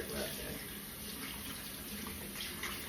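Cold tap water runs steadily into a sink while a plastic hair color bottle is rinsed under it, a loud, continuous close-up splashing rush with no talk.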